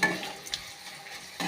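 Dry red chilies with chana dal and urad dal frying in a pan with onion for a ridge gourd stir-fry, a brief close sizzle with a few stirring scrapes and a louder burst at the end.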